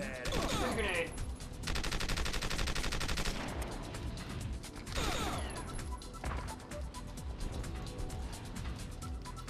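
Gunfire bursts from the video game Winback 2, with loud rapid volleys and crashing impacts filling most of the stretch, dense and continuous with brief gaps.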